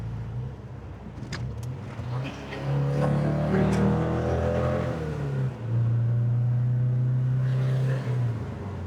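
A Porsche 914 in Phoenix Red accelerates through its gears, engine note climbing and dropping with each shift, a strong close rumble and rising harmonics with no talk over it.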